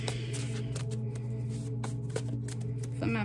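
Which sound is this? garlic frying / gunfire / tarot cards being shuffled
tarot cards being shuffled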